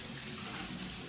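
Hot water pours out in a steady, quiet hissing stream as it is drained off cauliflower, like a pot being emptied into a sink.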